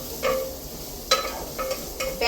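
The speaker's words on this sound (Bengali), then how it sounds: "পেঁয়াজটা ভাজা ভাজা হতে একটু টাইম লাগবে" Onions frying over medium to high flame in a home kitchen pan, with soft sizzling and a few sharp stirring scrapes at irregular intervals, close and moderately quiet with no talk.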